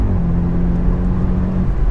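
Audi S8 rated at 680 bhp accelerating hard after a downshift, a deep steady engine drone with low rumble heard from inside the cabin, continuous and fairly loud.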